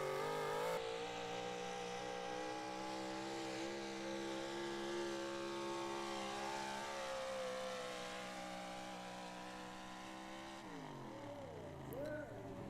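Ford pickup truck engine revving hard at a truck and tractor pull, a loud sustained roar with climbing pitch that drops off near the end, crowd and announcer noise faintly underneath.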